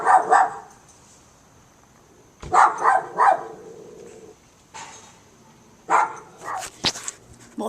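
A dog barks at night, late at 10:30, in short clustered bursts separated by quiet gaps, fairly close and sharp, with a few fainter thuds and rustles in between.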